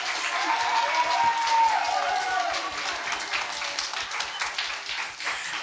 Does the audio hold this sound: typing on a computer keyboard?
no